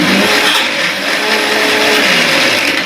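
An electric blender grinds ice and milk for doodh soda, a loud, continuous high-pitched whir holding steady throughout, close up and alone.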